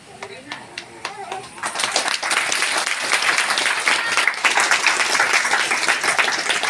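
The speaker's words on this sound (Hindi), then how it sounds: "जोर से ताली बजाएं।" A church crowd at a Christmas program breaks into loud, sustained applause after a few scattered claps, many hands clapping together with faint voices mixed in.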